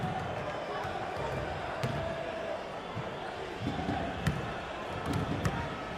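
Background cheering from a crowd at an eFIBA basketball qualifier game drifts in softly beneath a commentator's voice, with a few faint thuds and sharp knocks scattered through.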